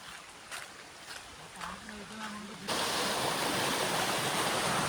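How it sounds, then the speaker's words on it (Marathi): A forest stream on the trail to a hidden waterfall near Sawantwadi rushes with steady broadband hiss, faint at first under light sounds, then suddenly loud and close for the final seconds. "त्यानंतर ना इथे असा व्हाळ लागतो."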